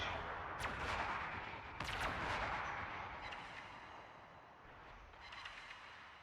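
Naval gunfire in World of Warships, AP shells slamming into a Bajani: heavy booming shots at the start, then rumbling impacts fading into a softer lingering roar with a few more distant thumps.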